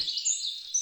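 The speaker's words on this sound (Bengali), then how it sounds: "কত রকম পাখির ডাক শোনা যাচ্ছে" Several birds chirp and tweet continuously outside an old bungalow with open grounds and trees, a steady high twittering chorus at moderate distance with no voices over it.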